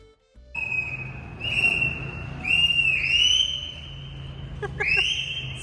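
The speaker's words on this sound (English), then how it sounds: "It's very aggressive whistle" A shrill whistle is blown in several long, sharp blasts with a few brief chirps between them, loud and close over faint background noise.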